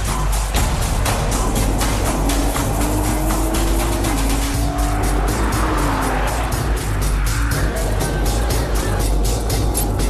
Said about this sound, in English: The GTR flies across the line at the Nürburgring in Germany.